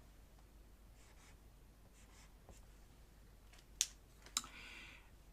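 A pen or pencil writes a number on paper during a long-division exercise, with soft faint scratching strokes followed by two sharper taps near the end, close and quiet.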